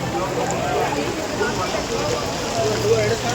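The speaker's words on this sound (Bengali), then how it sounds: "এখানে চিপচিপ করে বৃষ্টি হচ্ছে" Light rain patters steadily across an outdoor amusement park, a continuous soft hiss with faint background voices mixed in.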